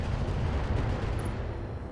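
Mech weapons firing in the battle game RogueTech, a continuous heavy rumble of booming shots and low explosions rolling together for two seconds with no talk.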